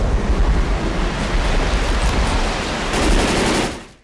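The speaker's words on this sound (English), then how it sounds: "the rain finally starts to pour. And around here, when it rains, it pours." Heavy rain pours down in the video game Left 4 Dead, a loud, dense, unbroken hiss of downpour that fades out at the very end.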